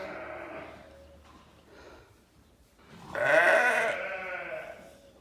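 Dairy ewes on a homestead farm bleat at moderate distance, a softer call early on followed by a louder, drawn-out bleat in the second half, with no talking.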